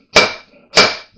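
The axle end of a CV axle from a BMW E46 325xi is struck against metal twice, giving two sharp, loud metallic bangs about half a second apart, each with a short ringing decay, close up and alone.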